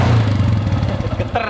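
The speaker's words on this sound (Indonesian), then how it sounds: "dari suara mesin ya, harusnya sih nggak apa-apa, Dim" A Suzuki Shogun 125 SP motorcycle engine starts and runs close by with a low, throbbing rumble and a slight rattle toward the end.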